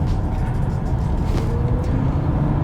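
A BMW i4 M50 electric car accelerates hard, giving a loud, steady wash of road and wind noise with a low motor hum heard from inside the cabin, with no talking.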